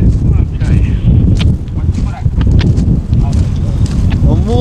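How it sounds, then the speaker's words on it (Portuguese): Strong gusty wind buffets the microphone on an outdoor train station platform near Campinas, heavy rumbling bursts throughout with someone talking over it. "Agora o vento fica louco"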